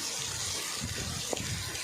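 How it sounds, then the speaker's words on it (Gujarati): Heavy rain pours down in a steady, dense roar of water, close and loud, with a single brief knock partway through and no voices. "જોઈ લો ભાઈ વરસાદ બહુ જ આવી રહ્યો છે"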